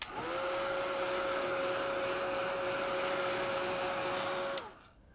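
A handheld heat tool used to dry watercolor craft tags blows with a steady, loud, close whirring hum for several seconds, then cuts off abruptly near the end.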